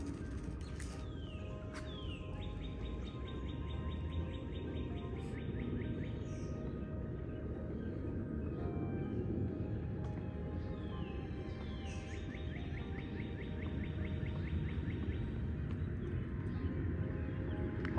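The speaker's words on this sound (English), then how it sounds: "Hopefully you can hear the birds." Birds sing in a spring yard at the end of March, with repeated quick trills rising out of a steady wash of outdoor background noise, fairly distant and soft.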